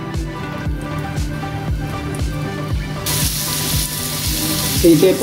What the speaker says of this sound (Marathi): आपण हे पनीरचे काप जे आहेत ते आपण आता शॅलो फ्राय करून घ्यायचे आहेत